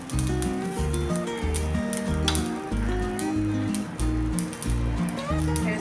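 Dosa batter sizzles on a hot pan as it is spread for a crispy masala dosa, a continuous crackling fry heard close up, with a voice talking over it at intervals.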